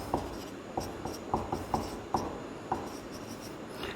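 Chalk or marker strokes on a board as a chemistry equation is written, a series of short scratchy taps and rubs in an irregular rhythm, close and fairly quiet with no talking.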